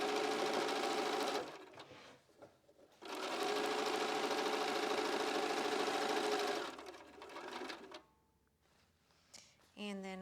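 Sewing machine stitching quilt pieces for a pinwheel quilt, running in two long steady bursts with a pause between and a quieter stretch afterward, loud and close.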